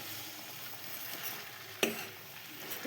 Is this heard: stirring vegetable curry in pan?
yes